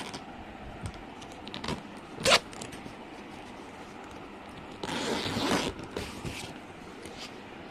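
A bag's zipper is run open or closed nearby: a sharp quick zip stands out early, then a longer rasping pull follows a few seconds later, with light handling clicks between and no talk.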